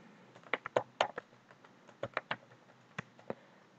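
Crisp keystrokes on a computer keyboard, a quick irregular burst of close, clear taps with short pauses, typed alone without talk.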